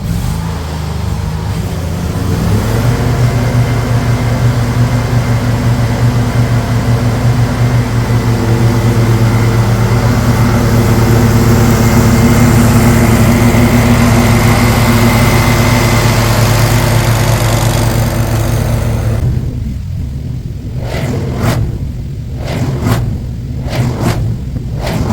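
A zero-turn mower's swapped engine idles steadily while warming up, a loud, constant low rumble that holds for about twenty seconds, then cuts off into a few sharp pops and knocks at the end.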